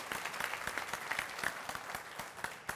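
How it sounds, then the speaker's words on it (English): Applause from an audience at a chamber of commerce breakfast, a steady wash of clapping from a room of people, moderately distant and continuous throughout. "Applause for Jamar, by the way, becoming a new chamber member."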